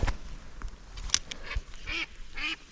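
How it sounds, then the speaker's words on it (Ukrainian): Ducks on a small river quack in short, nasal bursts, startled into flight, with two clear calls toward the end over an outdoor background of rustling and wind. "качок злякав"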